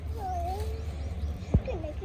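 Thin, high mewing from newborn kittens with eyes still closed, a few weak cries over a steady low hum, with a soft bump near the end.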